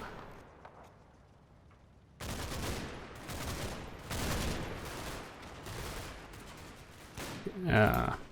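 Sustained gunfire bursts in Combat Mission: Battle for Normandy, drawn from a farmhouse in the WWII Normandy battle, with a quiet lead-in, then dense overlapping volleys of rifle and machine-gun fire and a sharp louder burst near the end.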